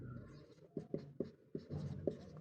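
Chalk writes on a classroom board during a physics lesson, a few close, distinct taps and scratchy strokes in an irregular rhythm with no talking.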